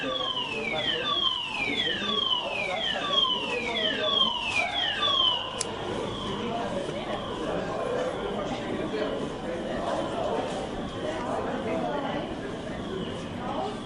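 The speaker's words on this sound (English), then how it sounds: "This is a fire alarm. Please leave the building immediately by the nearest available exit." A building fire alarm siren wails in repeated falling sweeps over the first few seconds, then gives way to a steady tone while a spoken evacuation announcement plays over a busy, noisy background.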